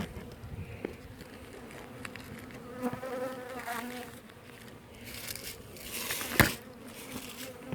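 Honeybees buzz close by as a sealed hive is pried open with a hive tool. A faint continuous drone runs under sharp scrapes, creaks and a loud snap, and someone talks quietly.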